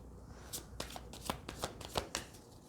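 Tarot cards being shuffled by hand, a run of crisp riffling and slapping bursts, quiet and close, with no voice over them.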